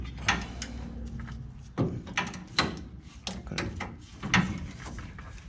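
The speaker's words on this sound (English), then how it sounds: "I love that crack of a nut coming loose." A spanner cracks a nut loose while working on the clutch of a Morris J2 van, giving several sharp metallic cracks and clunks spaced a second or so apart amid close workshop handling noise.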